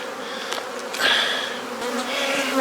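A steady, dense buzz of honey bees swarming around an open hive during an inspection, close and continuous with a few louder passes near the microphone.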